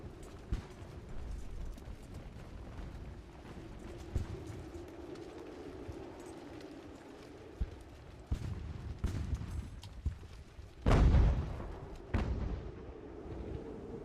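Ship cannons fire in Ultimate Admiral: Age of Sail during a harbor raid, scattered distant booms over steady ambient rumble, ending in a louder, heavier blast near the end.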